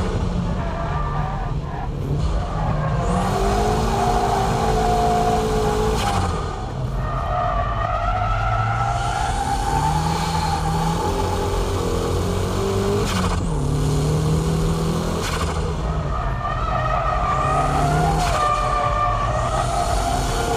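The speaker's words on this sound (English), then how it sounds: "On the S-curves, the faint drift should be used." Car drifting through S-curves on a track, its engine note rising and falling steadily for the whole stretch with tyre and wind noise, loud and continuous with no talk.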